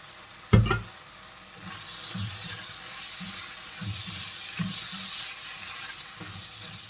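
Prawns frying in a pan, a sharp clunk as they drop in, then a continuous close sizzle with stirring scrapes throughout.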